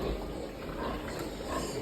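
Pig on a farm, a sow about 56 days pregnant with subcutaneous mites, making faint low grunting and snuffling noises continuously amid dull background rumble.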